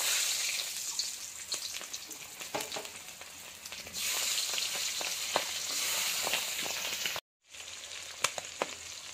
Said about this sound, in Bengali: এই পাবদা মাছগুলোকে ভালো করে ভেজে নেব।